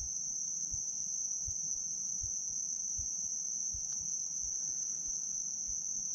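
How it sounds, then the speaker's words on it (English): Insects by a river trill in a steady, high, unbroken drone, with soft running water beneath and faint low thumps; no voices are heard. "The only noise you can hear is the insects"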